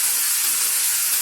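Shrimp dropped into a pan of cooked onion sizzle steadily, a continuous close hiss with no break and no other sounds.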